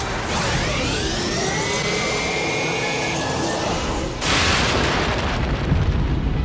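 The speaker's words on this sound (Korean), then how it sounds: "그리고 완전히 공룡화된 쿠파에게 마지막 발사." A weapon blast fired at a fully dinosaur-transformed Bowser in the 1993 live-action Super Mario Bros. film: a loud, sustained roaring burst with sweeping whine-like tones, then a sharp sudden surge near the end, continuous without talk.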